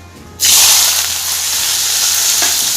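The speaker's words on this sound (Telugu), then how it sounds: "పచ్చిమిరపకాయ ఉల్లిగడ్డ కళ్యామాకు ఇవి అయితే ఇప్పుడు ఏం చేద్దాం ఆయిల్ వేడయ్యాక ఆయిల్లో వేసి" Green chillies, onion and curry leaves dropped into hot oil burst into a loud, sudden sizzle that holds as a steady, bright hiss close to the pan, with no talk.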